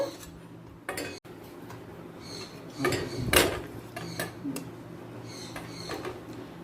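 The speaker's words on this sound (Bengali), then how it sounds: "এবার অন্য পাত্রে ঢেলে নেব" Pea lentil fritter curry is tipped from one cooking pot into another: sparse metal clinks and spoon scrapes, with a louder scraping rush midway and quiet handling after. Nobody speaks.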